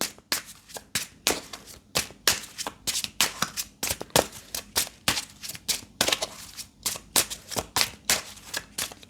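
Tarot cards are shuffled by hand in quick, repeated riffling bursts, each a sharp papery flutter, close and continuous with no talking.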